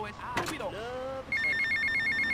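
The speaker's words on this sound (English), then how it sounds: "Alright, there's the phone call." A telephone rings in the video game GTA Vice City, a steady electronic ring tone that starts after a voice speaks and continues loudly to the end.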